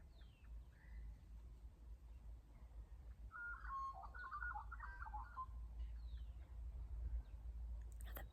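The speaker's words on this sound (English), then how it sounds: "Birds are so nice, aren't they?" Birds sing faintly outdoors on a fine day, a short bright warbling phrase in the middle with a few scattered chirps, distant and quiet over a low steady hum.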